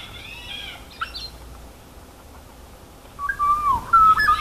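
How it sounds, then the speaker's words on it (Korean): An oriole, a summer songbird, sings in clear whistled phrases, with a brief call early and a louder melodic run of notes toward the end, with no talking. "꾀꼬리예요"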